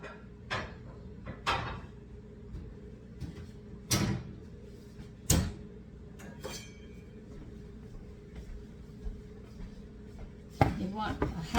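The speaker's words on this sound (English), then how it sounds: "now we're going to sit there and chop 1/2 cup of walnuts coarse" Walnuts chopped coarsely with a knife on a cutting board, a handful of sharp, separate knocks spaced irregularly, fairly close over a quiet kitchen background.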